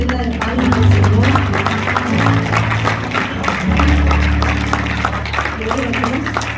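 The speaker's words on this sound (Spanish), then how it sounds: "Démosle una fuerte ofrenda de palmas al Señor." A church congregation claps as an offering of applause to the Lord, a sustained patter of many hands throughout under loud voices and music.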